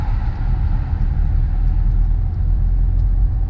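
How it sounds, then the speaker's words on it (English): A 2023 Mercedes-AMG SL43 R232 cruising at 60, heard from inside as a steady, loud low rumble of engine and road noise that holds constant throughout, with no voices. "right now we are cruising at 60"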